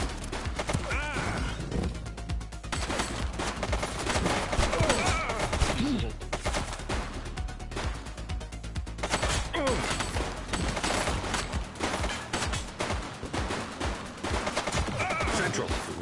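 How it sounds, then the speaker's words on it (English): Gunfire from a shooting suspect during a police chase in the video game The Precinct, dense bursts of rapid shots and crashing impacts packed together loudly across the whole stretch. "He's shooting."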